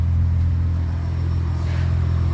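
Yamaha VRX motorcycle running steadily close by through a replacement muffler, a low continuous exhaust rumble with a deep throb and no voices.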